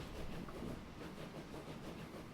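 A cattle train in the game Transport Fever 2 rolls along the rails with a faint, steady rumble and soft clatter that runs unbroken throughout.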